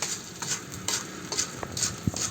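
Coffee beans roasting the traditional way in a pan, with steady sizzling, stirring scrapes and scattered sharp cracks of beans splitting from the heat, close and continuous.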